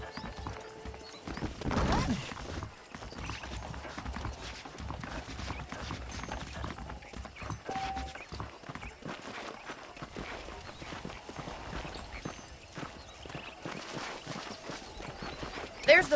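Horse hooves clip-clop at a steady walking rhythm while riding in the video game Red Dead Redemption, with a brief whinny and character dialogue over the hoofbeats.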